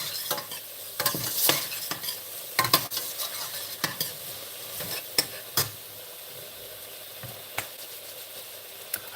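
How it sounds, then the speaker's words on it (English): Food sizzles steadily in a pan in a tiny kitchen while a utensil stirs and scrapes, with sharp clinks of metal against the pan scattered through the sizzle and no voices. "I am trying to cook in a tiny kitchen with shit knives and no chopping board."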